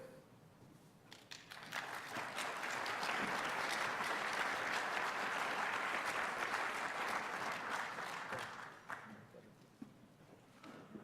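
Steady applause from a conference audience builds quickly, holds for several seconds, then tapers off into scattered claps.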